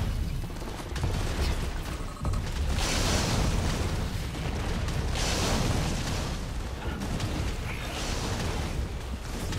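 Explosions in the video game Firefall come as a dense barrage of repeated broadband blasts and rumbling bursts, loud and continuous, with several stronger booms and no talk.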